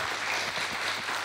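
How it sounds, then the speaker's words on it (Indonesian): A youth fellowship group applauds after a member finishes sharing, giving a brief soft patter of clapping that sounds moderately distant and fairly quiet. "Kasih aplaus dong teman-teman."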